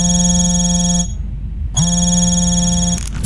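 Synthesized phone ringtone from the video game Hitman Absolution, a loud steady electronic tone that plays, cuts out for about a second, then resumes, with no talking over it.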